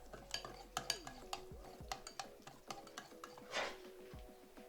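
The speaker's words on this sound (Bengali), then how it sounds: "দুধটা দিয়ে ভালো করে এটাকে ফেটিয়ে ভালো করে মিশিয়ে নিতে হবে সুজির সঙ্গে" A spoon whisks semolina and biscuit batter with milk in a bowl, giving quick, close, rhythmic clinks and scraping against the sides. The sound is soft and continuous, with no talking.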